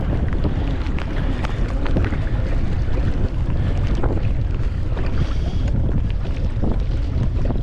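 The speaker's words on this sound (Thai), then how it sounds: "ตอนนี้คลื่นลมก็มาแล้วนะครับ" Strong wind gusts across open water around a Big Fish 105 pedal kayak. Waves slap and churn without letup, with loud, continuous buffeting on the microphone.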